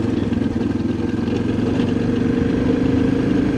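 Steady motorcycle engine rumble on a dirt road, close and continuous, with a low droning hum and slight rattling throughout.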